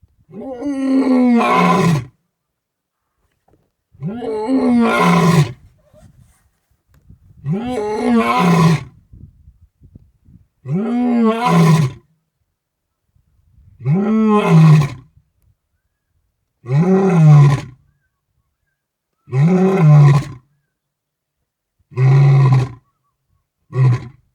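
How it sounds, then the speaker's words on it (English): A fully grown male lion on safari in Botswana roars in a long series of deep, drawn-out calls, about nine separate bellows with short pauses between them, loud and close and with no voices over it. "we saw a like fully grown, super majestic male lion roaring"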